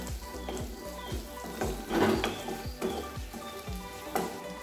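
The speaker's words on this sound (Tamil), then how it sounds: "இப்போ இதில் 10-12 சின்ன வெங்காயம் சேர்த்துக்கோங்க. ஒரு நிமிஷம் நல்லா வதக்கிடலாம்." Ten or twelve small onions sautéing in a pan for onion chutney, a soft sizzle with regular spatula scrapes and stirs, fairly close and moderate in level.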